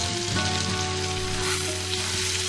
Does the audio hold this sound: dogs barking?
no